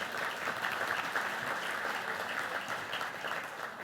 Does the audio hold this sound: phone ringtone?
no